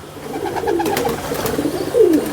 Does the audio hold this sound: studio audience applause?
no